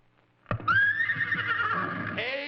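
A horse neighs once, a sharp onset followed by a long wavering whinny that rises and trembles, fairly close and clear, with a faint clip-clop hint underneath.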